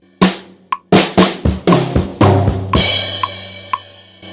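Played at a slower tempo, a drum fill from a song starts with a lone snare hit, then a run of descending tom strikes leads into a ringing cymbal crash with light, evenly spaced hi-hat taps, close and loud.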